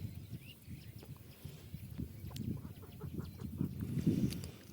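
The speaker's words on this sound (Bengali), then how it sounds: "বিভিন্ন ধরনের পাখির ডাক শুনতে পাওয়া যায়।" Birds call from a green rural wetland path, with duck- or goose-like quacking and honking calls repeating throughout, fairly close and growing busier toward the end, with no talking.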